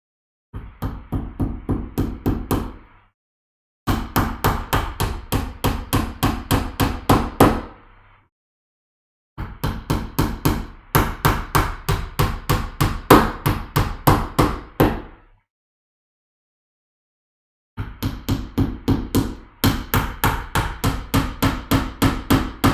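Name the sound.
hammering nails while building gaming shelves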